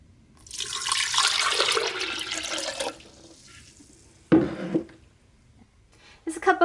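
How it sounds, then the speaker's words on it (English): Filtered water is poured into an Instant Pot Ace Blender jar, a steady splashing stream for a few seconds that fades, then a short burst of splashing and clatter nearby. "So I'm pouring 4 cups of filtered water."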